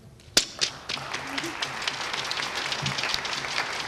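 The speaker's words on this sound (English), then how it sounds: "I would like to give a huge round of applause to our staff here at Winton Woods" An audience at the Winton Woods High School 2014 orchestra concert and senior recognition applauds. A few sharp early claps swell into dense, steady clapping that fills the hall.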